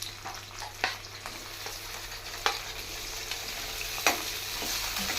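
Onion, carrots and tomato fry in a pan with a steady, soft sizzle, broken by a few sharp clicks of stirring spaced through the clip.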